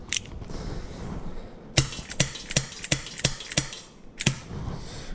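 Rapid shots from an Elite Force Smoke Wagon revolver, a run of about six sharp, bright metallic pings and clicks fired in quick succession at close range, followed by a brief pause and another click, with no speech.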